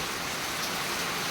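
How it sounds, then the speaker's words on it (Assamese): Heavy rain pours down steadily over an outdoor sports ground in Nalbari, a dense unbroken hiss of falling water with no voices. "আজি দিনটো পৰিব এইটো বৰষুণ, নকমে আৰু"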